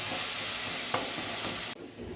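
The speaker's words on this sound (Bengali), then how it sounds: "নাড়তে নাড়তে মূলোর কালারটা অনেকটাই চেঞ্জ হয়ে গেছে, এটা একটু কন্টিনিউ নাড়াতে হবে।" Grated radish fries in a pan for a Bengali chechki, with a steady, close sizzle and scraping of stirring throughout, one sharp clink midway, then the hiss abruptly drops to a softer level.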